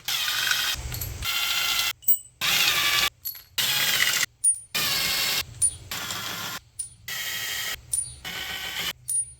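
An 8mm ratchet loosens case bolts on a Coolster 3050 ATV, with bursts of rapid pawl clicking broken by short pauses, close and fairly loud, with no talk.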